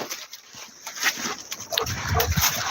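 Dogs out on a woodland walk in a Russian forest, with soft rustling and faint animal whimpers and snuffles that grow a little busier toward the end, all fairly close and fairly quiet.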